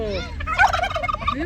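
A turkey at the Dashavatara Theme Park in Nelamangala lets out a single close, loud gobble, a quick burst of warbling rattles with no talking over it.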